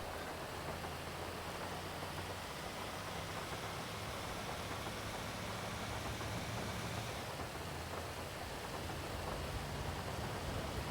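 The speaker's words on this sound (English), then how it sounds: "It's pouring in my screen." Steady, hissing rainfall in GTA 5 pours continuously, a dense wash of noise with no breaks and no voices.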